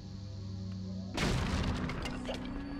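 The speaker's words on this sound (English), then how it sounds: "Let me just place a bomb right here." A bomb goes off in The Legend of Zelda: The Wind Waker, a sudden broadband boom after a quiet stretch, followed by a rumbling, crackling tail.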